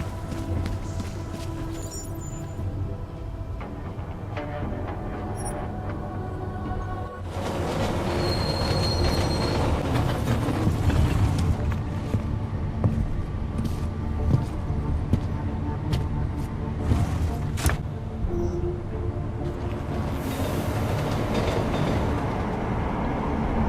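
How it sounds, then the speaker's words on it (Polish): A subway train ride in the video game Deus Ex: Mankind Divided carries a steady rumbling roll with high metallic wheel squeals and occasional clicks, continuous and fairly loud throughout. "No i jedziemy metrem po raz kolejny"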